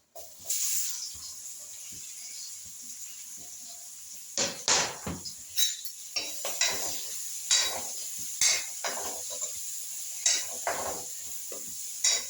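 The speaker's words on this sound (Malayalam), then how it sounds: "ചീഞ്ചട്ടി വെച്ച് എണ്ണ നന്നായി ചൂടായിട്ടുണ്ട് അപ്പം നമുക്ക് ആദ്യം തന്നെ ഇട്ട് കൊടുക്കേണ്ടത് സവാളയാണ് സവാള ഇട്ട് കൊടുക്കാം" Sliced onions go into well-heated oil in a cheenachatti, a Kerala iron wok, setting off a continuous close sizzling hiss punctuated by irregular louder crackling and spattering bursts.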